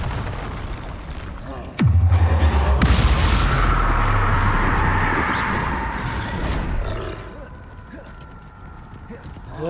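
A Bombarda spell explosion in the video game Hogwarts Legacy, a sharp crack and deep booming blast followed by a long rumbling, crackling roar that slowly fades.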